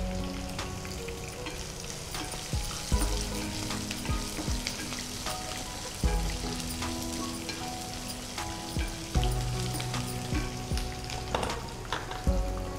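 Onion and green chili sizzle and fry steadily in hot tempering oil in a pan, with a few sharper clanks and stirring sounds breaking through the continuous crackle, close and fairly loud, with no talking.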